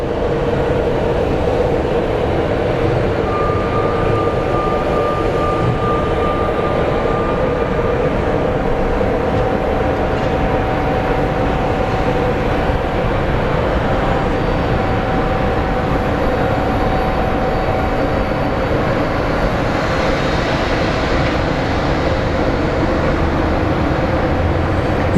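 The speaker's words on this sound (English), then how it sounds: "There seems to be a plane that is headed to the end of the runway for a departure" American Airlines jet taxiing toward the end of the runway for departure at Phoenix Sky Harbor airport, a loud continuous engine roar and rumble that holds steady throughout with a faint high whine over it.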